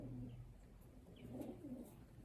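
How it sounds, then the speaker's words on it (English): Pigeons coo faintly in a loft among racing birds, low soft murmuring calls repeating over a steady background hum, distant and quiet. "there's some nice handling pigeons in this lot"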